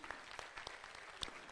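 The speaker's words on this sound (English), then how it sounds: "So we can give a hand clap for that." Audience applause at a live Central Bank launch event, faint and distant, a thin patter of scattered hand claps with a few louder individual claps.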